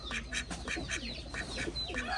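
A duck quacks repeatedly at close range, a rapid series of short, nasal calls over about two seconds with no talking.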